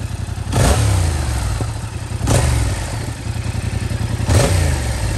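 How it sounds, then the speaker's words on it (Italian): Motorcycle with its original stock exhaust revved three times over a steady idle, each blip rising sharply then falling back, close and loud with no speech. "Andiamo a sentire un attimo il motore"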